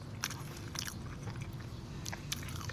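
Someone chewing nasi beriani with rice and chicken during a live mukbang, soft wet mouth sounds and a few crunchy bites repeating close to the microphone, with no talking.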